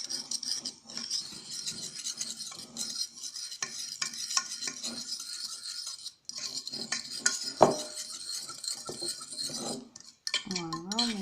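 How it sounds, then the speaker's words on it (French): A spoon stirs a homemade dishwasher tablet mixture in a bowl, with continuous gritty scraping and rubbing close up, a sharp clink of metal partway through and a warbling tone near the end. "Voilà, on mélange bien."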